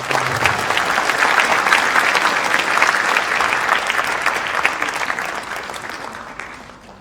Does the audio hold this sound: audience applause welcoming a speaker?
yes